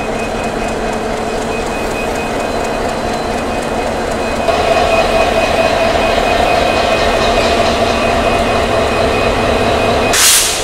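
Hyundai Rotem 3019 series diesel locomotive on the Dhaka–Chittagong Mohanagar Provati Express, idling at a station with a steady loud rumble and hiss that swells midway, then a brief louder burst at the end; no talk.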